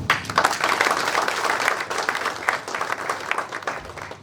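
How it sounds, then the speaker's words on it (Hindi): An audience in a lecture hall breaks into sustained, dense applause, many hands clapping steadily and fairly near for the whole stretch, with no voices over it. "उनके लिए मैं चाहता हूं कि आप ताली बजाएं।"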